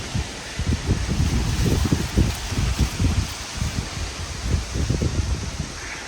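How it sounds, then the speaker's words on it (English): Gusty wind roars across the microphone outdoors in a garden, with rustling and low buffeting that rises and falls steadily throughout. "it got windy since I've been in there"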